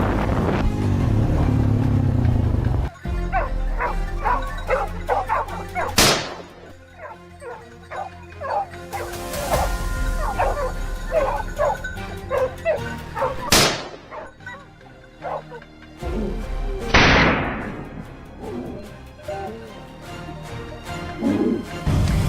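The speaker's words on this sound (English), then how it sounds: "the hunting dog's bark suddenly echoed through the still air, this time more urgent and relentless than usual" A hunting dog barks repeatedly in sugarcane fields during a wild boar hunt, urgent, insistent yips and bow-wows close by, with a rumbling engine-like noise underneath and bursts of rustling.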